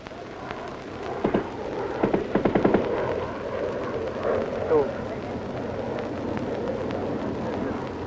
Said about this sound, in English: Some of the bombs exploded within 300 yards of the highway.